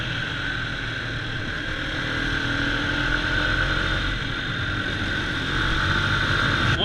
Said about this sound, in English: the RSV4 is sounding like a big brutal animal